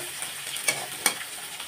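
Shrimp frying with leafy greens in a pan: a steady soft sizzle with a couple of sharper crackles and stirring clinks, fairly quiet and close, with no voices.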